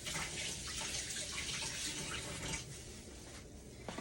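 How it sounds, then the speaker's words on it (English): Water solution being poured into a pitcher while making natural soap, a steady, continuous splashing stream of liquid, fairly faint and close, with no voices. "You want to pour that into your pitcher"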